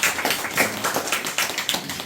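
A crowd at a village meeting in Jinan County, Korea claps together, giving a dense, steady patter of many hands at close range that runs without pause for about two seconds.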